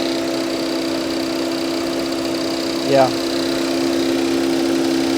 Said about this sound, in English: the engine seems to be running pretty good